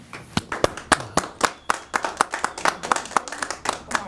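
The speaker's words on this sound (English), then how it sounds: "Let's give him a round of applause for that." A small audience on The Vinny and Carisa Show claps for Vinny Vella, a sparse, uneven patter of individual hand claps close by, fairly loud and without speech.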